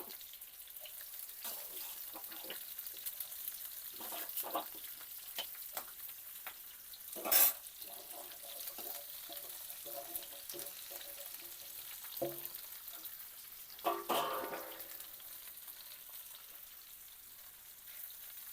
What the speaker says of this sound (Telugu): ఇప్పుడు వీటిని వేసుకుని వేయించుకోవాలి చక్కగా నిదానంగా వేగాలి